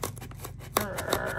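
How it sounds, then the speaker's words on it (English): Scissors snipping through the packaging of a sewing subscription box, a few quick rubbing cuts followed by a sharp snip, close and loud, with no talk. "I probably have crappy scissors here."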